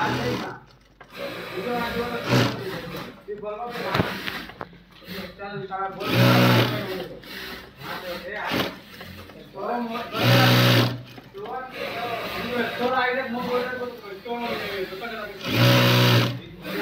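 An industrial sewing machine double-stitches a pocket onto a shirt in a Ludhiana tailoring shop, running in repeated short bursts of loud whirring with pauses, while someone talks over and between the runs.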